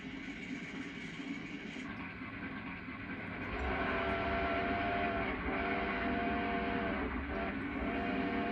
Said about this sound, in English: Eastbound passenger train next to Kaufman Avenue,